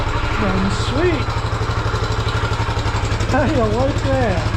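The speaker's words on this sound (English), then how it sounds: "Sweet running engine." A 1974 Honda XL250 motorcycle engine idles steadily with an even, low thumping pulse throughout, close by, while someone talks over it.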